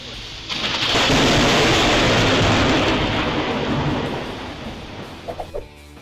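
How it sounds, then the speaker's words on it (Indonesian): Close lightning strikes bring a loud, crackling, rumbling thunder roll that fills most of the stretch, then eases off, with a few short sharp cracks near the end. "Beberapa sambaran petir yang terjadi di depan mata berhasil terekam kamera."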